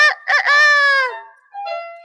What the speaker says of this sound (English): 1 hour before sunup, Reddy would flap his wings and crow.